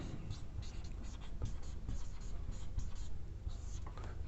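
Pen or chalk writing on paper or a board during a Hindi-language physics lesson on temperature scales, soft repeated scratching strokes under a quiet, close voice.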